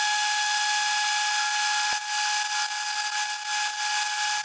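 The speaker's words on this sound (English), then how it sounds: "I'm going to trim off all this little slanty part here with my cutoff tool" A cutoff tool trims metal on a motorcycle shift lever with a steady, loud, high-pitched whine that holds continuously, close up and without talk.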